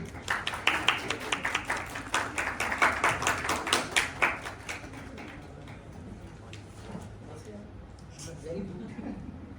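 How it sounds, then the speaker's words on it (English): A crowd of people at a university lecture on international commercial arbitration claps to welcome a speaker to the stage, a burst of fairly close applause that is dense for about four seconds and then thins out and fades. "So please, a huge round of applause for him, and let's welcome him on the stage."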